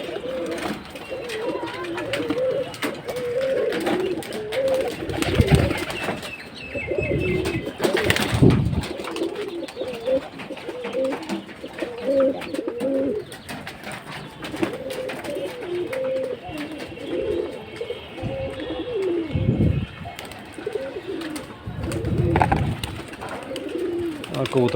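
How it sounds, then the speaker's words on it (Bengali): Pigeons, including Budapest and myna-type breeds, coo in low repeated rolling calls close by after being released, with occasional wing flaps and a person talking over them throughout. "আর কবুতর সবগুলাই নেমে গেছে"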